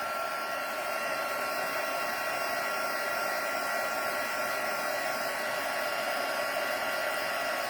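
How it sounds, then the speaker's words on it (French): A heat gun blows hot air for heat embossing, with a steady, loud whooshing hiss that holds constant throughout, with no talking. "si je continue à parler pendant que le pistolet chauffe"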